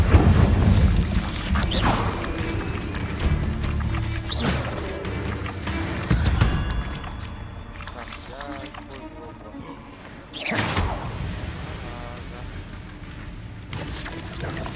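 Spells are cast in the Hogwarts Legacy video game, with loud booms, crashes and whooshes from fire magic and combat, and a voice talking over much of the action.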